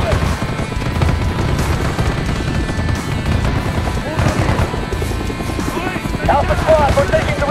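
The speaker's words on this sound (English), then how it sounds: "We're taking heavy fire from the helicopter." An enemy helicopter attacks in the Call of Duty Black Ops video game, a dense continuous rotor roar mixed with booms and bursts of gunfire, loud throughout, with voices briefly audible.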